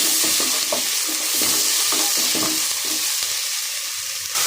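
Bottle gourd frying in hot oil with onion, a loud continuous sizzle with intermittent stirring scrapes in the pan.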